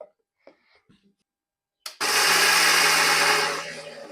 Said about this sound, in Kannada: ಇದನ್ನು ಮಿಕ್ಸಿಗೆ ಹಾಕಿ ಇದನ್ನು ಚೆನ್ನಾಗಿ ಪೇಸ್ಟ್ ಮಾಡ್ಕೊಳ್ಳಿ